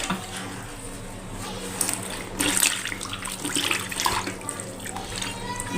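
Water is poured or run into a tub to soak cloth lining material at home. The splashing and trickling is steady and close, with brief louder gushes, over a low background hum.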